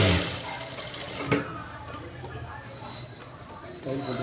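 A sewing machine stitching a lining blouse, a short mechanical whirring run with a sharp clack partway through, fairly quiet and close.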